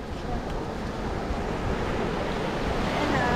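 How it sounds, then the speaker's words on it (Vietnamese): Big Atlantic Ocean waves breaking on a beach in Luanda, a steady loud roar of surf with wind rumbling against the microphone, building slightly toward the end. "Nhưng mà sóng hơi to. Sóng như này là to đấy."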